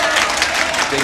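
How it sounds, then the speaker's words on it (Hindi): Applause from the audience at an All India Mushaira, an Urdu poetry gathering, in praise of a poet: a steady, dense wash of many hands clapping that fills the whole moment. "मंजर साहब का नाम पर आप ताली बजाइए।"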